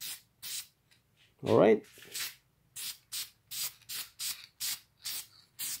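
Aerosol spray paint is applied to a car brake caliper in a run of short, close hissing bursts at a steady rhythm. One longer, louder burst comes early, and a voice speaks briefly.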